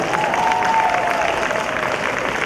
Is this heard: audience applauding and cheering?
yes